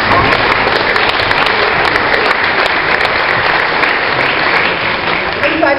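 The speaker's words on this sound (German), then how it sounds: "Zuerst mal Applaus für unseren Martin." Loud, continuous applause from a gathered audience for Martin at a local DIE LINKE parliamentary group event, a thick wash of clapping close by that fills the whole stretch, with some chatter mixed in.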